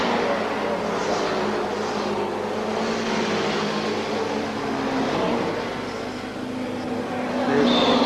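Suzuki 1100 racing motorcycles roar past during the Castrol 6 Hour endurance race, a steady, loud, unbroken engine drone with the pitch swelling slightly near the end.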